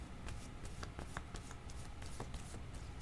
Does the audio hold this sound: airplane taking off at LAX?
no